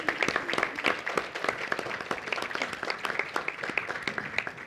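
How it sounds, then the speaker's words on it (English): An audience at a civil rights conference applauds the Carter Library staff with a round of crisp, scattered clapping from a modest crowd, moderately quiet and fairly even in rhythm. "And we go give them a round of applause."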